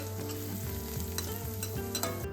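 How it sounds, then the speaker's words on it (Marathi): A thick pea cutlet mixture stirred in a hot kadhai, a continuous close sizzle with repeated scraping strokes of a spoon against the pan, no talking. "आता हे सतत ढवळत राहायचं आणि बघा छान एकजीव असं झालंय"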